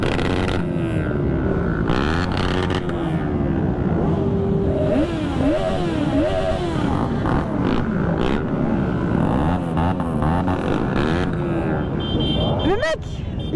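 Motorcycle riding on a wet road during a Christmas group ride, a continuous loud engine drone with shifting revs and wind buffeting, some clatter, and a sharp rev rise near the end.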